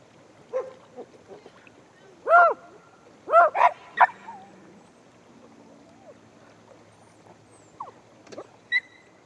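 A dog gives a few sharp, fairly close barks in bursts, with quieter yips scattered between, outdoors at a state park campground near water, while people talk at times.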